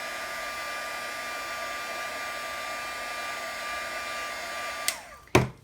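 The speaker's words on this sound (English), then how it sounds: "I'm just going to give it a little bit of heat to remelt the embossing powder" A heat tool blows steadily to remelt embossing powder on a handmade wreath card. Its even whirring hum is close and alone, ending with a couple of sharp clicks and handling knocks as it is switched off.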